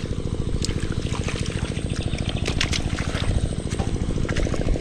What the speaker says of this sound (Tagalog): madami-dami na naman yung tubig